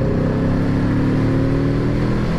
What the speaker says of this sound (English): give it a little twist on the old throttle only